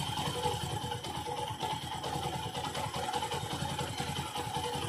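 A Bajaj Discover 110cc motorcycle engine idles steadily at close range after an idle-speed screw adjustment, giving an even, continuous mechanical chug with light clatter and no talking.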